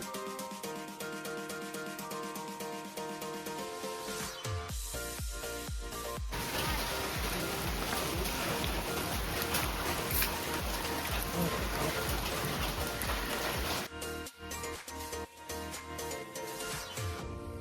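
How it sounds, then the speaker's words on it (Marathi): Heavy monsoon rain pours down at Kanakeshwar Temple in Alibaug, a dense, continuous hiss of drops on surfaces that grows louder in the middle stretch, with no one speaking. "पाऊस बेधुंदपणे ओघळत आहे"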